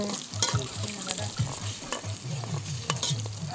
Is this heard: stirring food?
yes